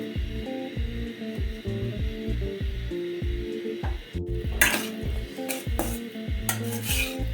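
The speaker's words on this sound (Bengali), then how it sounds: "বড় ভাই আজকে বট ভাজবো" Beef tripe fries in a little oil in a small home kitchen, with steady sizzling under repeated close metallic clinks and scrapes of a spatula against the pan, and a few brief louder hisses.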